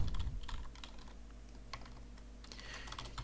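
Quiet, close keystrokes on a computer keyboard while writing PHP code, tapping in an uneven run of clicks with no one talking.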